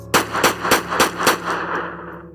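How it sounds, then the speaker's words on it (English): A rapid burst of about six sharp, loud gunshots fires in even succession, then a reverberant tail trails off. "Then suddenly you heard a gunshot."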